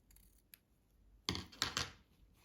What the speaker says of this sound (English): separate the layers and do a little slit into the interfacing.